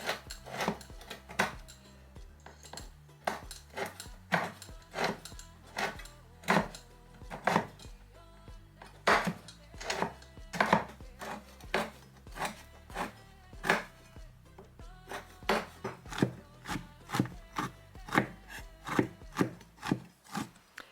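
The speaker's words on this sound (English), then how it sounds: "You can hear it's quite a meaty, chunky chop." Repeated sharp chopping knocks of a knife through brittle chunks of Ecuadorian cacao on a board, close and irregularly paced, with brief scraping between strikes.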